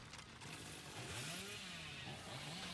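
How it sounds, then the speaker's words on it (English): Billy's chainsaw revving in Dead by Daylight, a steady loud motor drone with rising and falling pitch sweeps running throughout, close and continuous. "Oh, a very good chainsaw from Cyber."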